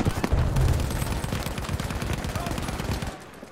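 Gunfire in the Battlefield V video game on the Lofoten or Provence maps, a loud burst of rapid shots up front that thins into a steady rattle of distant firing, with a faint voice underneath.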